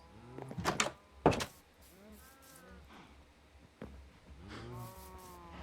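Minecraft cows low in a few drawn-out moos, mixed with sharp clicks and thumps from the game, at moderate volume with no talking.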